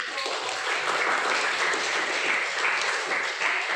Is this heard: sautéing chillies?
no